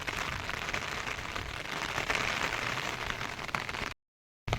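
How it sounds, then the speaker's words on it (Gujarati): Rain falls steadily outdoors in a dense, even hiss that holds constant for about four seconds before a brief break. "જો આવ્યો ધીરે ધીરે વધે જ છે, અવાજ આવે છે વરસાદનો."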